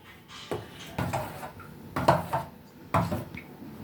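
Potato dough mixture stirred in a bowl with a spoon or utensil: a few distinct scraping knocks against the bowl, close and moderately loud, with softer mixing in between and no talk.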